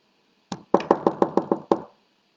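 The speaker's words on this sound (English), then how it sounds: "there came a knocking at the door" Knocking at a cottage door: one knock, a brief pause, then a quick run of six sharp raps and a final knock, close and distinct against silence.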